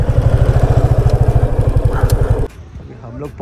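A motorcycle engine runs in a fast, steady thumping idle close by while being parked, then cuts off abruptly, leaving quiet background with a voice speaking.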